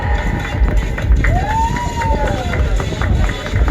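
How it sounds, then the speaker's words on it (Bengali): Audience applause at a fashion show, a dense, steady wash of clapping and crowd noise lasting the whole moment, with a brief rising-and-falling whistle-like tone sweeping through the middle. "একবার জোরে হাততালি হয়ে যাক"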